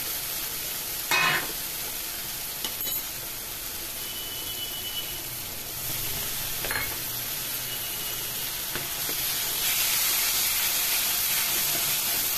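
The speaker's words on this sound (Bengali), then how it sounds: "এবার এটা একসাথে এগুলো নাড়াচাড়া করছি" Spice paste sizzling and frying in a pan for Bengali dhokar dalna, a steady close hiss with occasional scraping knocks from stirring.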